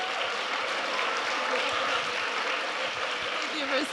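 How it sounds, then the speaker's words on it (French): Quiet, steady applause from a festival audience in Paris honoring a speaker's fortieth birthday, a soft continuous patter of many hands. "Applaudissez-la."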